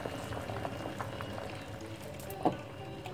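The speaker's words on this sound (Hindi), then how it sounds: "अब पानी में दोबारा उबाल आ चुका है।" Water returns to a rolling boil in a pot on a gas stove while rice is being cooked, a steady low bubbling churn throughout with one brief louder burst near the end and no talk.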